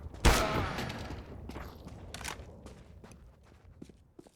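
Gunfire in Counter-Strike: Global Offensive during a pistols-only, no-scope warmup: one loud near shot at the start, then scattered fainter distant pops and footstep-like taps, with no talk.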